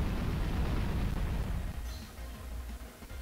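Explosion move going off in a 2017 VGC Pokémon video game battle: a loud, dense, roaring blast that fills the sound, then thins into a rumbling fade.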